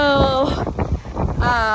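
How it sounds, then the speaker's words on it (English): Gusty wind buffets the microphone on a reservoir loop trail, a loud low rumble that dips briefly midway; some faint voice-like sounds mix in. "it's so windy"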